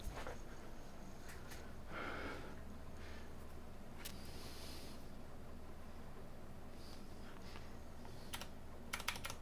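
Keys on a laptop keyboard under repair are tapped in sparse, scattered clicks, faint over a steady background hum, with a small cluster of quick taps at the end.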